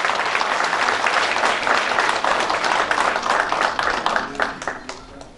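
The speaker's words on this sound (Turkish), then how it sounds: "kuvvetli alkışlarla sahneye davet ediyoruz" An indoor audience claps warmly to welcome a group of folk musicians onto the stage, dense loud applause that holds steady and then thins out and fades toward the end.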